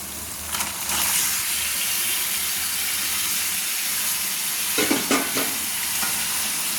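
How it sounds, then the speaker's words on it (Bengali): Mutton sizzles steadily in a hot kadai with spices as it is stirred, with a constant frying hiss and a few scraping clinks of a utensil. "এবার এই মটনটাকে আমি নাড়ছি, ভালো করে নেড়ে নিচ্ছি।"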